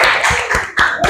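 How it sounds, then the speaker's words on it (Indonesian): A classroom of students applauds for a presenting group, a brief burst of dense, close hand clapping lasting about a second. "Silakan tepuk tangan untuk kelompok 2."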